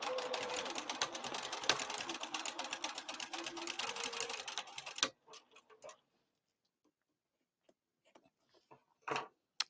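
A home sewing machine stitches a crossbody bag's exterior in a fast, steady rapid-fire run for about five seconds, then stops, leaving a few soft clicks and handling taps close by.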